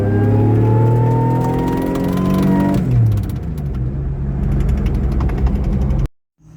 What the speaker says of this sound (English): as you guys heard that flapping sound, my new belt looks like it disintegrated an entire rib off of the inside